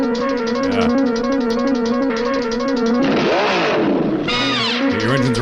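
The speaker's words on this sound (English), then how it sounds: "Your engine's running, Abe." Cartoon race car engine from Speed Racer, a loud, steady droning hum with whining pitch sweeps that rise and fall near the end, running alone without talk.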